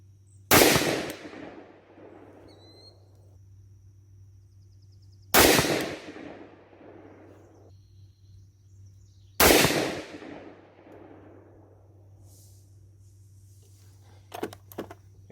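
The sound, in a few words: rifle shots, Springfield Armory Saint .223, Hornady 55gr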